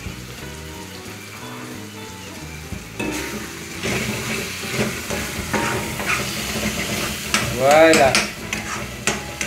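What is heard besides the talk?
stirring spaghetti in a sizzling pan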